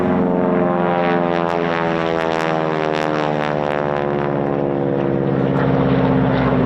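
A Hawker Hurricane propeller fighter flies past at an air show, its piston engine a loud, steady harmonic drone that holds throughout with a slight pitch shift as it moves.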